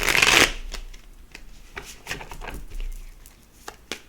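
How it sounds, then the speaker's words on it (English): Tarot cards being shuffled: a loud riffling burst at the start, then a string of soft, scattered card flicks and taps close by with no talking. "Let's give it a shuffle here."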